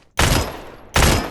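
Two loud, close bursts of M4 rifle fire in the shooter game Badlanders, separated by a brief pause, each a sharp cluster of rapid shots that rings out and trails off.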